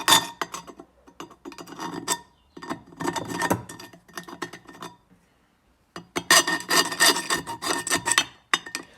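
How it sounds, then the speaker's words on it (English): A metal file rasps off the remaining forge flakes from a handmade knife blade in repeated close, gritty strokes, with a short quiet pause midway before the filing resumes more vigorously. "removing the remaining flakes with this metal file"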